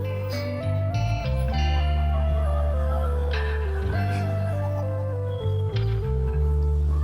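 A sewing machine stitches tucks on the back of a blouse, its motor whining loudly and continuously while the pitch rises and falls, with brief dips where the speed changes.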